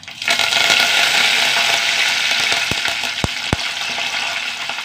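Dried red chilies, green chilies and curry leaves dropped into hot oil, a loud steady sizzle that starts abruptly, with a few sharp pops near the end.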